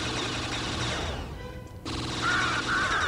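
Turret gunfire in Jedi Knight II: Jedi Outcast, rapid loud automatic shots that drop out briefly mid-way and then resume, close and dense with game sounds mixed in.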